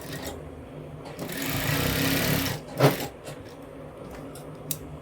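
A sewing machine stitches a blouse, running in a steady whirring burst through the first few seconds before stopping, followed by a brief knock and quieter handling noises.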